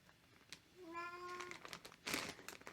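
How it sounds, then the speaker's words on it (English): A cat meows once, a clear drawn-out meow with a rising tone, followed by rustling and a short burst of crinkling noise. "And my kitty cat is making noise again."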